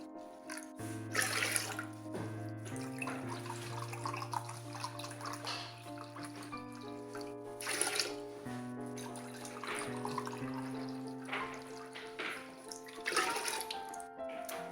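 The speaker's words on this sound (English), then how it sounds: "And then we're just putting 3 cups of lemon juice." Lemon juice pours into a pot holding twelve cups of water for a pickling brine for garlic scapes, a quiet, steady liquid trickle with small splashes and soft clinks throughout.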